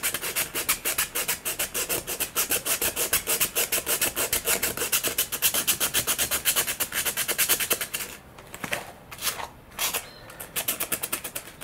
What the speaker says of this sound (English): I'm using 100 grit sandpaper.